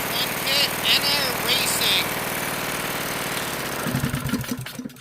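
Predator 224 engine running on an MB200 mini bike, a loud continuous mechanical drone with someone talking over it, the engine note roughening and sputtering toward the end.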